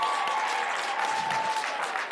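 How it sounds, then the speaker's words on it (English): An audience at a comedy roast show claps for a performer being brought out, a steady wash of applause with a faint sustained tone running beneath it. "Go ahead and clap for him"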